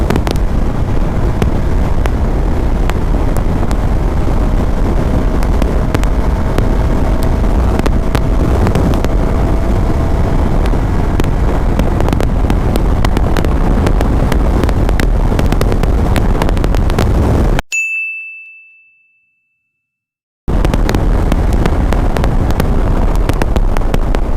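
A Hero Xpulse 200 motorcycle runs at top speed, heavy wind buffeting and engine roar filling the microphone, then cutting abruptly to silence before resuming.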